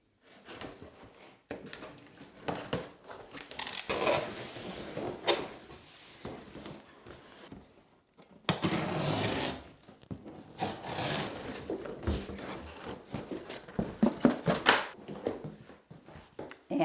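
WeatherTech floor mats are unpacked inside a camper van cab, with scattered close rustling, scraping and knocking of packaging and mats in bursts separated by quieter pauses.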